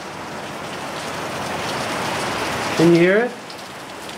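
Heavy rain pounding down in Kauai, Hawaii, a steady dense hiss that fills the whole clip, with a brief spoken question rising over it near the end.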